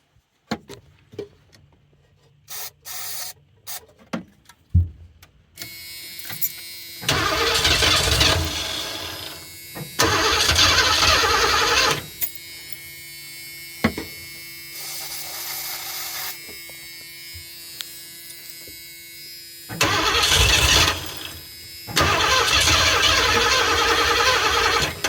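A 1984 Ford E150 camper van engine cranks in several loud, sustained bursts after small clicks, sputtering briefly on carb cleaner between cranking spells, close by with no talk.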